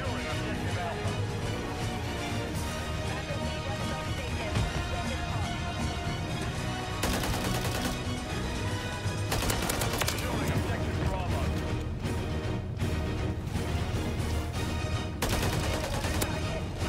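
A turret in Modern Warfare 3 hammers out sustained, loud automatic fire in dense bursts, layered with other gunshots and battle noise while a player talks over it.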